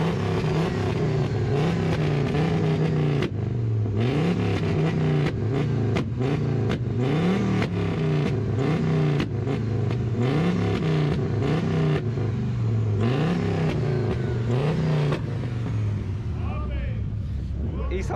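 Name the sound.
loud diesel car engine revving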